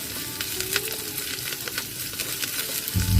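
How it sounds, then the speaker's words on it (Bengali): Chopped onion and green chillies sizzle lightly in a pan, a steady crackling fry with soft scraping stirs and a low thump near the end. "পেঁয়াজ কাঁচা লঙ্কা কুচি হালকা ভাজতে হবে"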